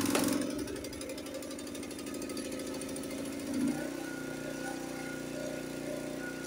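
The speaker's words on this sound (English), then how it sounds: "Starts on the first pull as usual." A Honda HS/HSS 724 snowblower engine cranks and catches on the first pull, then settles into a steady, loud idle with a rapid mechanical chug.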